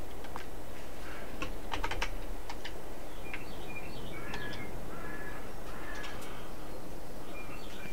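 Keys clatter on a computer keyboard during Farming Simulator 22 play, irregular soft taps over a steady hiss of game ambience, with crow-like caws and bird calls faintly mixed in.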